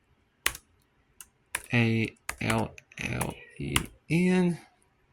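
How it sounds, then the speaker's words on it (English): A name is typed on a keyboard while setting up an access control system, with a few soft scattered key clicks at close range, mostly under someone talking. "It's going to make me type in my name again."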